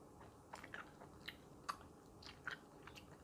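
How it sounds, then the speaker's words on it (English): Gum being chewed close to the mic, with soft wet smacks and small crisp bites spaced irregularly over a quiet background, each one brief and fairly faint. "Some people it's like chewing sounds."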